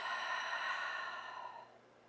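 Slow, audible breath during a yoga stretch, a soft airy exhale that starts fairly strong and tapers away over about two seconds, alone without talk.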